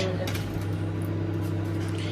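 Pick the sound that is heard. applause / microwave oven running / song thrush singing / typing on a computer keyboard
microwave oven running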